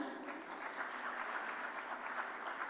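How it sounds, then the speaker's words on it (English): Audience applause at the ANMI WIRC Stocktech 2026 conference as dignitaries are announced, a faint, even wash of clapping that holds steady for nearly three seconds. "Can we have a huge round of applause as I keep announcing our dignitaries?"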